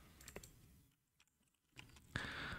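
Typing on a computer keyboard, close and fairly quiet: a few scattered key clicks at the start, a near-silent pause, then a denser burst of clacks toward the end.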